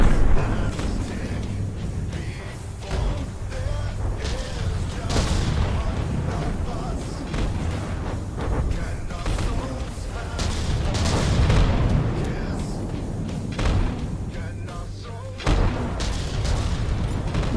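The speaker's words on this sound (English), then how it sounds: "The cannonballs are bouncing off." Cannon fire and cannonballs striking ships in the naval battle game From the Depths, with repeated booming blasts and rumbling impacts piling up over the whole span, dense and loud.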